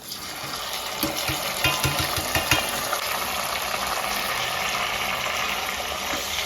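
Tomatoes frying in a pan for egg biryani, a steady soft sizzle with a few scattered stirring clinks near the start, close and continuous throughout.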